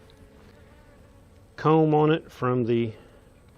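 Honey bees at an open backyard hive buzz faintly in the background while a person talks over them up close.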